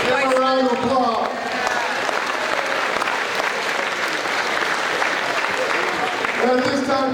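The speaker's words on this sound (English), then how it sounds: "Give them a round of applause." A school auditorium audience at a volleyball assembly breaks into sustained applause, a dense, steady roar of many hands, with a voice heard briefly at the start and end.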